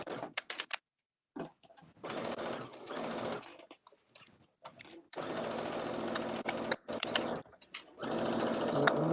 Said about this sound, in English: I'm basting it around the top now before I add the waistband.